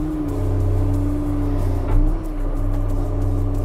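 A Cat F2 backhoe loader's diesel engine idling close by, a steady low droning hum with a strong tonal throb that swells briefly as the revs rise, without speech.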